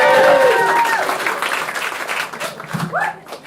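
Applause and cheering from a comedy club audience as a stand-up comic is introduced in New York, loud at first and tapering off over a few seconds while a host speaks over it.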